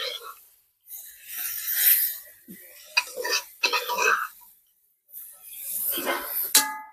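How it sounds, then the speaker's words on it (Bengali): A ladle stirs kalai lentil dal with hilsa fish heads in a wok, making intermittent bursts of scraping and metallic clinks separated by short quiet gaps. "এবার ডালটা আমি একটুখানি ঘুটে নেব হাতা দিয়ে"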